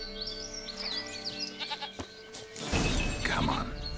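A goat in The Witcher 3 bleats in a short wavering cry near the start, followed by a crashing, noisy burst while someone speaks.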